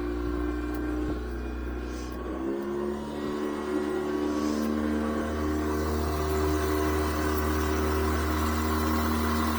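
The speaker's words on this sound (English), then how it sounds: "once you fire it up, all you have to do is just turn the key on and it'll fire up" A Yamaha F300 outboard engine on a 2023 Hewescraft 240 Ocean Pro boat starts and settles into a steady, loud idle hum with low throbbing tones, running alone without talk.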